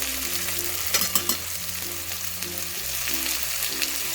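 Softened tomatoes with turmeric and ground coriander being stirred in a hot pan for a light Bengali ridge gourd and shrimp curry, giving a steady sizzle broken by several quick spoon scrapes.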